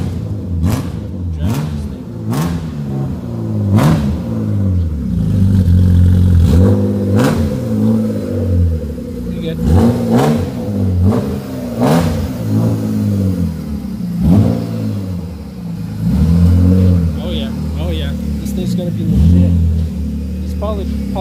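A BMW E36 engine revs hard again and again up close, its loud rising and falling drone repeating with brief revs, while people talk excitedly nearby.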